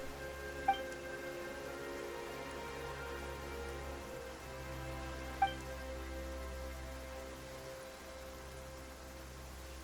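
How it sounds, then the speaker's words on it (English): Rain falling in the video game Quest 6, a steady, soft hiss of rainfall over a low hum, with two faint sharp ticks and no voices. "Why is it raining all of a sudden?"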